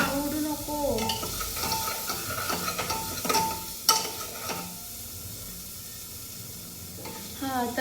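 Hot oil sizzling and spattering in a pan during frying, a steady crackle broken by sharp pops and stirring scrapes, louder in the first half before settling into a quieter hiss.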